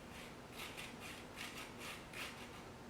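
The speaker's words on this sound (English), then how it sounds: "you can grate into that lemon bowl, just like this" Lemon rind rubbed over a grater into a bowl, with soft rhythmic rasping strokes about twice a second, faint and close, against low background noise.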